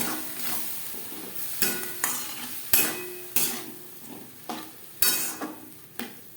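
Spices and chickpeas being sautéed over low to medium flame for a vegetarian banana-flower curry, with soft sizzling under repeated scraping strokes of a spatula against the pan at a steady, unhurried rhythm.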